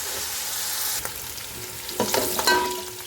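Steady, loud sizzling of onion and spices sautéing in a hot pan, with occasional scraping clinks as they are stirred.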